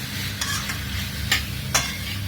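Pork bhuna-fried in masala for Mangalorean pork curry, a close sizzle with several quick scraping stirs of a spoon against the pan.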